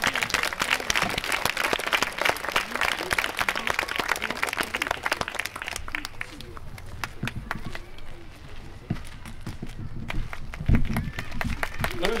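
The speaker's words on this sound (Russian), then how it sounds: "Под ваши аплодисменты." Hall audience at a concert marking an organization's 30th anniversary applauds a speaker coming onto the stage, dense sustained clapping that gradually thins into scattered claps, with some voices underneath.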